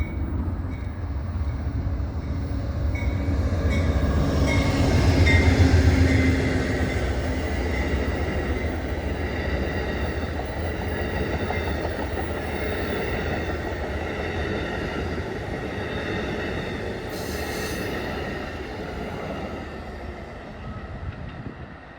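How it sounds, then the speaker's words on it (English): An Amtrak Northeast Regional passenger train passes through the Long Bridge area of Washington DC. A loud, sustained rumble of rail cars with steady wheel clatter swells to a peak early on, then carries on evenly and eases off near the end. "started with another Amtrak Northeast Regional"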